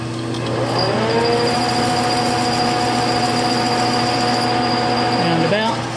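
A lathe cuts threads on a large steel tap handle. A steady, close motor whine with a high ringing tone holds for about five seconds, then drops in pitch and winds down.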